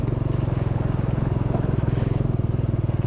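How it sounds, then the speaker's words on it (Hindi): Several motorcycles ride down a loose gravel mountain road in Spiti Valley, engines droning steadily and loudly up close with a pulsing rhythm throughout, gravel crunch mixed in. "बाइकर्स आ रहे हैं ऊपर से"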